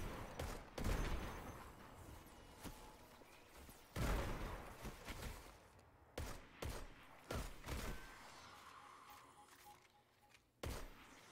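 Weapon fire in the video game Destiny 2 comes as several sharp bursts and thumps at irregular intervals, with rumbling effects between them, at moderate volume.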